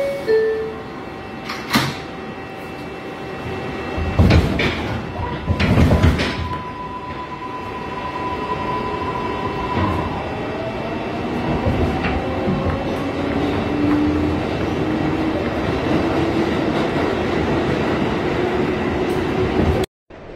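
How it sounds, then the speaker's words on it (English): A New York 6 subway train leaves 77th Street after its doors close, rumbling steadily with clattering bursts early on and a couple of high tonal whines, a continuous rolling roar that cuts off abruptly. "Stand clear of the closing doors"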